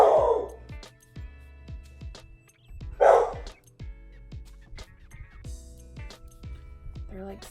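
Several dogs bark and yip again and again in the background, a scattered run of sharp barks at moderate distance that keeps going across the stretch, with a louder flurry near the start and another around the middle.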